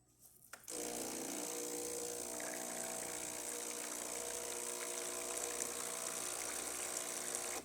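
A Breville Barista espresso machine dispenses hot water after a tune-up, starting with a click and then a steady pump hum and hiss of flowing water that stays loud and even for several seconds, with no talk.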